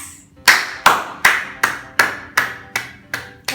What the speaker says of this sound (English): Tired of clapping now after their songs.